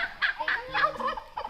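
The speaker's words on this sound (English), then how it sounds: "Look at all the turkeys." Turkeys on a small few-acre farm gobble in a series of rapid, rattling bursts, several calls overlapping at close range with no talking.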